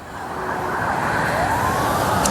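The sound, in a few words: emergency vehicle sirens on a snowy city street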